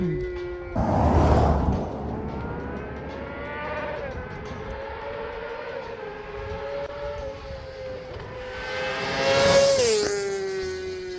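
A motorbike fitted with a straight-through exhaust pipe and no catalytic converter, heard as a steady engine drone with rising harmonic tones and two louder revving bursts near the start and end, loud and close with no talk.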